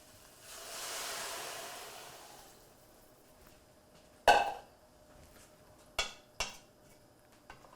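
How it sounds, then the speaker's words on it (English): Water is poured into rice in a cooking pot on the stove, a soft rushing splash that swells and fades over a couple of seconds, followed by a sharp metallic clank and two lighter knocks of cookware. "Now we'll add our 4 cups of water."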